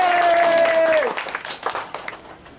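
Audience applause from a crowd at a comedy tour show in Sukabumi, a brief burst of clapping that follows a fading tone and quickly thins out.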